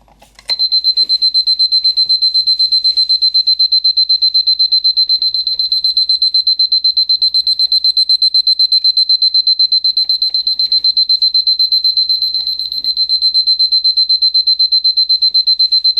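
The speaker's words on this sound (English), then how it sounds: "So we'll put the alarm on and listen to it." A Lorus Mickey Mouse alarm clock rings with a steady, continuous high-pitched electronic beeping that starts abruptly and carries on loud and unbroken, close to the listener.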